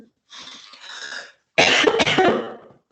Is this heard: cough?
yes